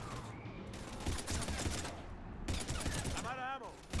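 Rapid bursts of gunfire from Mass Effect 3 rattle in dense volleys at a loud, fairly close level, broken by short pauses, with voices talking over parts of it.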